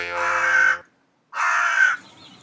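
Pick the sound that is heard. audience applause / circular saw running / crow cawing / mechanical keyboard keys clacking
crow cawing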